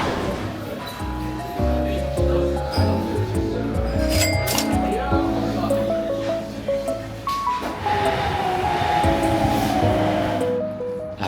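Rattling clinks and rumble from a train ride in Hokkaido, Japan, heard steadily under background chatter and tonal sounds throughout.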